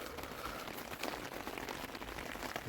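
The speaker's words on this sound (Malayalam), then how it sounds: "ഇപ്പോൾ പുറത്ത് നല്ല മഴ ഉണ്ട്." Heavy rain falls outdoors in Himachal, a dense, steady hiss of drops on surfaces that continues without a break for a few seconds, with no talking over it.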